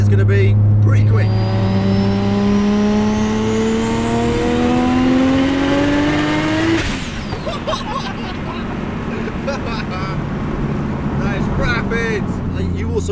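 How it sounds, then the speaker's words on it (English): A 750-horsepower Nissan Skyline R33 GTS-T with methanol injection accelerates hard, its engine note climbing steadily through the gears to a loud peak before cutting off, then continuing as rumbling cabin noise with people talking. "R33 is running 750 horsepower, so I'm assuming it's going to be pretty quick"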